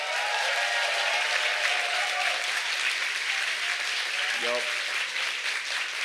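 An audience at the Hackaday Supercon 2022 badge hacking awards ceremony bursts into dense, sustained applause that stays loud and even throughout, with a brief voice cutting through near the end.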